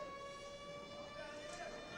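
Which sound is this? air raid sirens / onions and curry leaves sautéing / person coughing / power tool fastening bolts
air raid sirens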